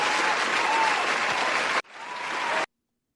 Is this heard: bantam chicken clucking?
no